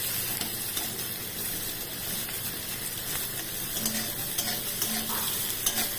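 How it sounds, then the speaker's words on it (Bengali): Onions and whole garam masala frying together in fish oil in a wok, a continuous sizzle under repeated spatula stirring and scraping, close and fairly loud, with no talk. "একসাথে দুটোই ভাজা হবে"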